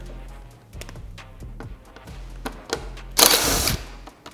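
A 4mm Allen tool loosens two fasteners on a tail panel of a 2024+ Kawasaki Ninja 500 / Z500 motorcycle. Light metallic clicks and scrapes sit over a low steady hum, then a brief louder rattling burst.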